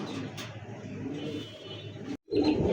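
Red-beaked, red-eyed Bombay pigeons give low, soft, rolling coos close by, with a brief gap and a fuller burst of cooing at the end.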